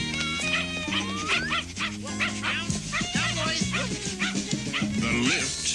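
Several dogs bark, yip and whimper in a busy burst from a dog food commercial, close and loud with overlapping cries, mixed with a voice talking over them.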